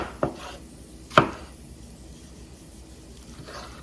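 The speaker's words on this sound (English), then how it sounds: "Just sort of roughly like chopping them, so they cook faster" Tomatoes are roughly chopped with a knife on a board, two sharp, distinct cuts about a second apart, then a faint third tap in a quiet kitchen.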